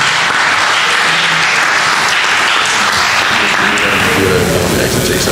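Steady, dense applause from an audience at a varsity sports awards ceremony, loud and close throughout, with faint voices underneath.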